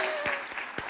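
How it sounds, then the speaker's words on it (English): Applause from an audience at a real estate market panel, a steady patter of many hands with a few sharper claps standing out, fairly close and continuous through the moment. "Can we please give him a huge round of applause?"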